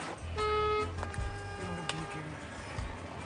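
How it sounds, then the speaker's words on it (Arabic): Several car horns honking continuously in city traffic near a taxi, overlapping tonal blasts that sustain and shift over a low traffic rumble. "خلينا مجموعة من الكراهب تمشي قريبة من التاكسي وتدخل في موجة متاع تزمير مستمر"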